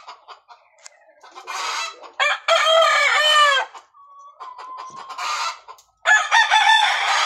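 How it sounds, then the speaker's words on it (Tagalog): A red junglefowl (labuyo) rooster crows loudly and close in several harsh bursts, mixed with clucks and other fowl calls among backyard game chickens. "Mayroon akong labuyo dito na hindi pa naglugon."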